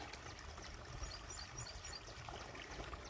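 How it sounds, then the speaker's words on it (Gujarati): Irrigation water flows through a farm field in a soft, steady trickling rush, faint and continuous with no voices. "જો અહીંથી પાણી ચાલુ છે."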